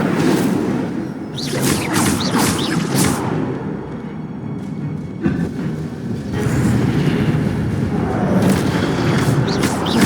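Incendio fire spell cast in the Hogwarts Legacy video game, loud booming whooshes and crackling bursts in a busy, continuous game soundscape with repeated impacts.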